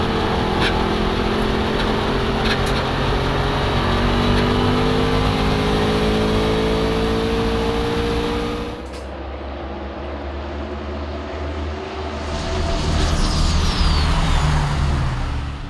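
Twin-turbo Toyota Land Cruiser built for land speed racing roaring along at over 160 mph, a steady loud engine drone with wind rush that dips briefly then swells again.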